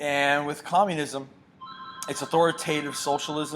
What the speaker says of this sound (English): That's a phone in the background.